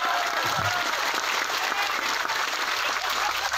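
An indoor audience at an Islamic religious lecture in Taichung, Taiwan bursts into dense, sustained clapping for NU Taiwan, a close crowd of many hands filling the whole moment.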